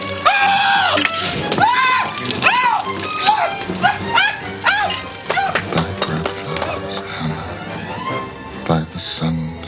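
A dog barks, yips and whimpers repeatedly over a dense backdrop of music and other noise, loud and close.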